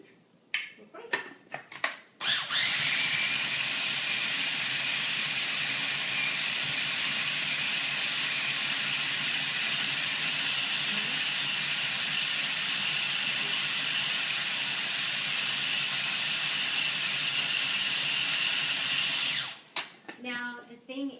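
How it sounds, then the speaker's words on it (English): Food processor grinding pumpkin seed pâté with added cheese, a loud steady whirring motor running for about seventeen seconds after brief handling noises, then stopping with a few clicks. "And we'll grind it."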